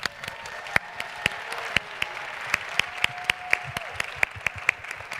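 An audience applauding a winner at a family night-out event, sparse scattered claps with a few sharp louder hand claps standing out over a low murmur of crowd voices, moderately distant.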